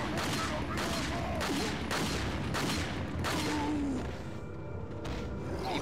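Repeated pistol shots in Resident Evil 4 fire in a steady series of sharp cracks over several seconds, with faint background sounds and no clear talk.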